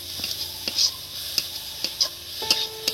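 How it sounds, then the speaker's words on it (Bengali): Radish greens with garam masala being stirred in a pan, a soft sizzle underneath with repeated scraping strokes of a spatula at an uneven rhythm, close and fairly quiet, no talking. "দেখুন এবার একটু নেড়ে চেড়ে দেবো।"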